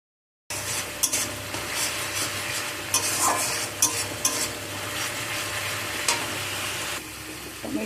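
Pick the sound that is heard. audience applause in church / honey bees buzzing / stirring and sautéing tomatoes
stirring and sautéing tomatoes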